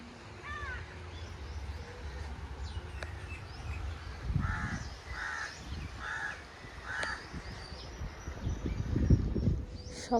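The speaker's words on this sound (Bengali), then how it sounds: "সকাল থেকে একটা কাক ডেকে যাচ্ছে, আধ ঘন্টা ধরে।" A crow caws in an outdoor island setting among casuarina trees, a run of four evenly spaced harsh calls at moderate distance, with a few fainter caws earlier, over low rustling background.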